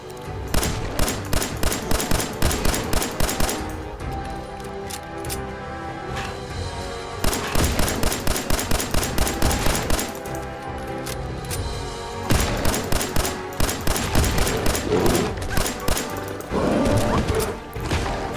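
Repeated bursts of rapid gunfire from the video game Fallout 4, loud and close, coming in three long volleys separated by short lulls, each shot a sharp crack in a fast rhythmic string.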